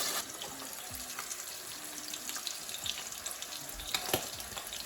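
A piece of brown trout fries in hot oil in a pan, giving a continuous close crackling sizzle with scattered pops and a few faint clinks of cookware.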